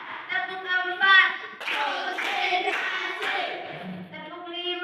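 A classroom of children claps a counted rhythmic pattern together during a lesson, bursts of hand claps mixed with young voices, fairly close and moderately loud.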